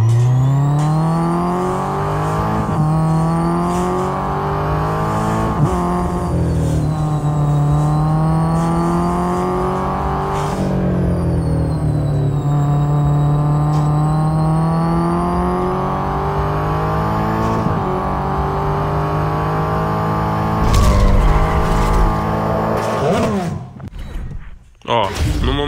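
Race car engines in the mobile racing game Real Racing whine and rev through repeated gear shifts, rising and falling in pitch, loud and continuous, with someone speaking over the engine noise.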